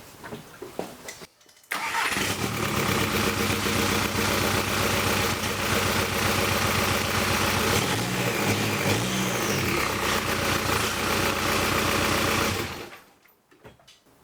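A 1.9L ALH diesel in an MK4 Jetta cranks, fires and runs with a steady, loud clattering idle for about ten seconds before being shut off into quiet.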